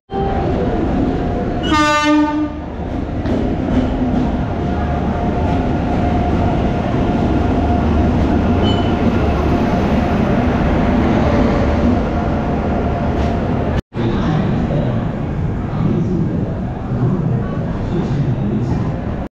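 The Telangana Express at a railway station makes a loud, close, continuous rumble, with a horn blast near the start and a brief cutout later.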